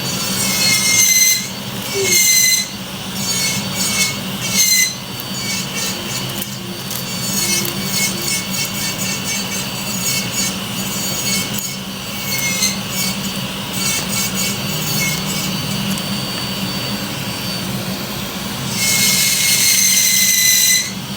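An angle grinder whines and rasps against material in long continuous passes, loud and close, with brief pauses between cuts.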